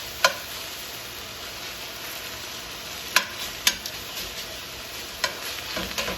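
Spinach cooks in a pan over a gas flame for stuffed shells, a steady soft sizzle and hiss with a few sharp utensil clicks against the pan, close and continuous.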